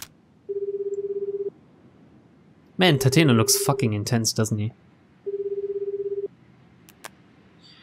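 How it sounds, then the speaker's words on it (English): Phone dialing tones in the video game 428: Shibuya Scramble: two steady electronic tone bursts about a second long, separated by someone talking over a matching tone, followed by a faint click. "he got out his phone and called the detective"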